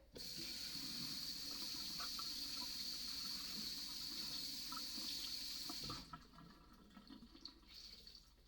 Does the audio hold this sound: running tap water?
yes